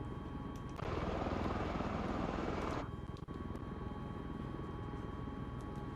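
Engines of an MV-22 Osprey tiltrotor in a flight simulator, flying in airplane mode, give a loud broadband roar for about two seconds before dropping back to a quieter, steady drone.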